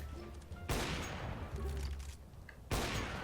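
Several loud air rifle shots ring out in a video game, with sharp blasts near the start and end and another burst in the middle, each trailing a short rumble.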